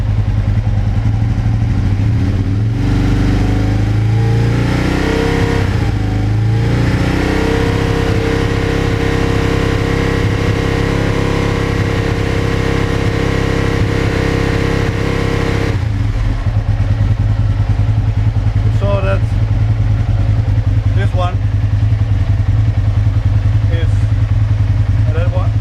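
Aprilia RSV1000R Factory motorcycle engine held at a steady 4,000 RPM during throttle body vacuum balancing, a loud continuous droning rev up close that drops back toward idle partway through, with faint clatter afterward.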